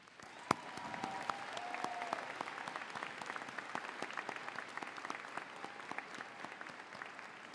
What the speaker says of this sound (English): Please join me again in applauding their accomplishments, as well as the service of all veterans here tonight.